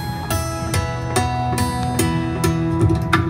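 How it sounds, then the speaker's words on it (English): Bright, ringing guitar harmonics tapped with one finger in a quick, regular rhythm over a steady backing of drums and bass, with no talking. "Or you can play them with one finger by hitting just on the end of the note like this."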